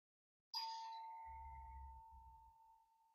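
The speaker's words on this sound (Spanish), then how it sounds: "voy a ir a abrir la puerta porque están tocando el timbre" A doorbell sounds a single clear, bell-like ding that rings on and slowly fades, with a brief low rumble underneath partway through; quiet and distant overall.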